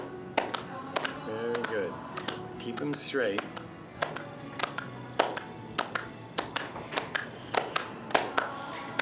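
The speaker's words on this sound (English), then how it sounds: "We're just going to just lightly clap." Light hand clapping during a Kundalini yoga exercise, a steady run of soft, distinct claps while an instructor talks over them.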